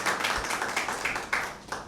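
Audience clapping at a Father's Day mushaira welcoming poet Javed Josh to the stage, a brief burst of close, fairly loud claps with a few sharper individual hits.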